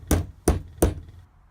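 A hammer strikes a small socket set over washers to seat a meter door latch, three sharp, evenly spaced knocks, close and loud, with no talking.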